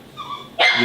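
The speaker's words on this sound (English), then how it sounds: "if you hear dogs in the background" A dog gives a brief whimpering yelp, then a sharper bark, heard faintly in the background of an indoor recording.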